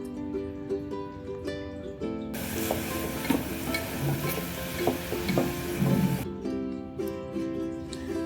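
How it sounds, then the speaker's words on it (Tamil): Onions and tomatoes sauté in a clay pot for a mutton curry, giving a steady sizzle broken by scraping, clattering stirs of a spoon against the pot. "தக்காளியும் ஆட் பண்ணி நல்லா மசியை வந்து இதை நம்ம வதக்கி விட்டுகிட்டே இருக்கலாம்"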